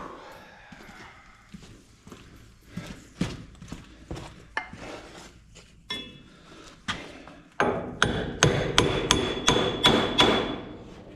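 Metal hammer blows strike parts on the front end of an M670 during repair, a steady series of sharp, loud clanging hits at a roughly even pace that speeds up and grows denser near the end.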